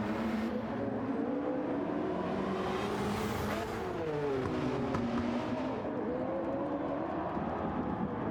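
Race cars, including a Hyundai, lap a track during a Gran Turismo 7 endurance championship race: steady engine roar with pitch sweeping as cars pass by, loud and continuous with no talk.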